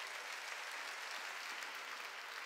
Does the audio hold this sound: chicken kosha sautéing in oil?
no